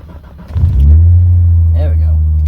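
A 1990 Eagle Premier engine cranks and fires up in cold weather, settling into a steady, deep, close idle rumble, with a voice speaking briefly near the end.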